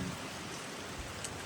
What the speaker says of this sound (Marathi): हे बघा पाऊस तर लय लागताच हा, थांबलोच नाही